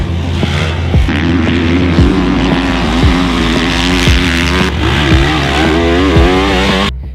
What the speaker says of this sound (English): Today, we're getting our first chance to ride the 2022 Kawasaki